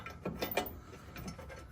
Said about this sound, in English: we're just going to use a ratchet with an extension, a little universal joint